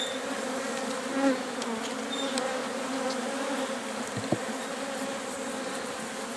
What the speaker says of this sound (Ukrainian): одразу сюди линуть оси